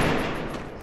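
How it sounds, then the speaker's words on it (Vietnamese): Gunfire in the Free Fire battle royale game: a loud burst of shots at the start decays into a dense, fading rattle, with no voices over it. "Bắn rát phết em ạ."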